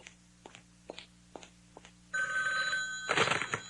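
In a radio comedy, a telephone bell rings out loud and near after a run of light footsteps, a bright sustained jangle ending in a rattling burst, with no talking over it.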